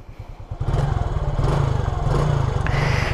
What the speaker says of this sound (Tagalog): kaya napakaangas ng tunog ng kanilang mga muffler